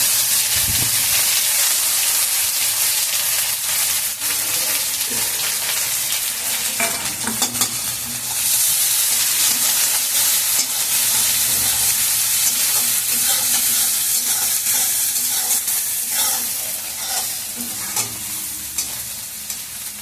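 Sliced onions dropped into hot oil alongside garlic in a pan sizzle and hiss loudly and continuously, with occasional stirring scrapes, and no voices.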